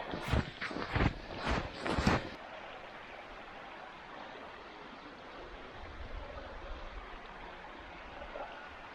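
A small creek rapid rushes steadily in Allegany State Park in winter, a soft even hiss heard from a little distance after a few seconds of close talking.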